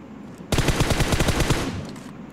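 A loud, rapid burst of automatic gunfire in the mobile battle game PUBG Mobile on the Sanhok map, a tight string of close shots lasting about a second.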